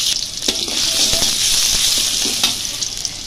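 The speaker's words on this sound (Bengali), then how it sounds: "তো চুলায় আমি তেল দিয়ে দিয়েছি, এর মধ্যে আমি এখন পেঁয়াজ কুচিগুলো ছেড়ে দিব।" Chopped onions hiss in hot oil on a stove, a loud steady sizzle with scattered pops and crackles throughout, close and uninterrupted.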